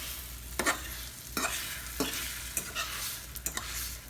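An egg frying in a pan sizzles steadily while a utensil pushes it in with several short scraping strokes, each one a brief burst of noise; nearby and fairly quiet, with no voices.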